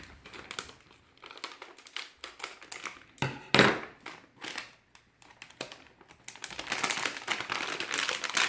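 Plastic packaging of a Malaysian Milo product crinkles and crunches up close, with sharp snipping clicks of scissors and rustling bursts as it is cut open.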